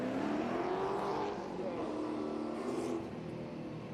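Triumph TR8 fitted with a larger 4.6 litre Rover V8 instead of its standard V8, running at a grassroots historic sprint meet, a steady loud engine drone that eases slightly partway through, with crowd chatter mixed in.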